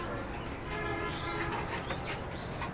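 Racer pigeons coo softly in a dense, busy loft chorus, with occasional wing flutters mixed into a constant low murmur.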